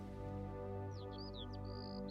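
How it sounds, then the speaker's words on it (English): A few brief, high bird chirps far off, faint above a steady low hum. "the chirping of the birds in the distance"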